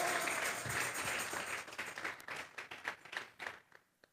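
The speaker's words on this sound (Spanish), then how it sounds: "Vamos a regalarle ofrenda de palmas al Dios de la gloria" A church congregation claps during a Spanish-language service, starting as a dense, blended burst that thins into scattered, distinct claps and fades out, heard faint and somewhat distant.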